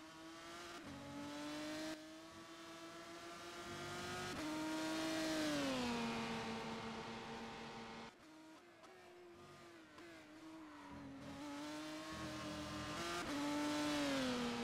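A race car's engine howls through a qualifying lap at Imola in a racing game, revving up and down through gear changes with steady, loud tonal whine and brief drops between shifts, no voices.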